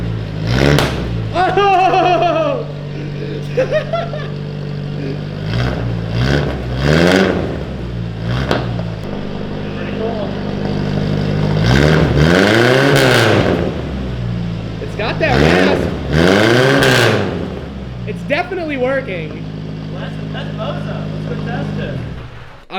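A car engine revs through a homemade PVC pipe exhaust in repeated loud bursts that rise and fall, with several people talking and exclaiming between and over the revs.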